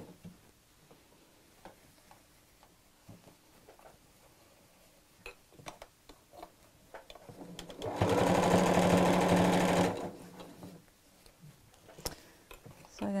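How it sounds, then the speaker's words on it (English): Sewing machine stitching around the top of a fabric Christmas stocking, a steady loud whirring run of about two seconds. Quieter handling and clicks come before and after it. "I'm going to sew all the way around the top here"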